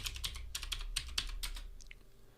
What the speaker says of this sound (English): Type in your regular password.